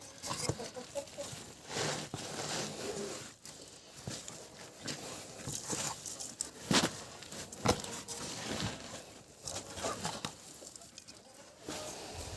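Chickens cluck and fuss nearby amid shuffling and scratching noises, with occasional sharp knocks breaking through the busy farmyard clatter.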